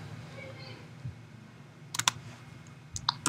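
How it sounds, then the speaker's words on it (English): A few quick key clicks on a Mac computer keyboard as someone types a short command, bunched into two brief clusters against a quiet room hum. "I'm going to type in sudo,"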